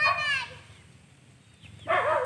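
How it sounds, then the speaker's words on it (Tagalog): Dog barking outdoors around a farm field where copra is being cooked, a couple of sharp bursts at the start and again near the end, with quieter low rumbling between. "Yun ang aso tumatahol."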